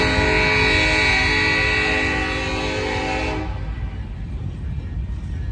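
A Kansas City Southern train in Texas sounds its horn in one long, loud, steady blast that cuts off abruptly, leaving the low rumble of the rolling train.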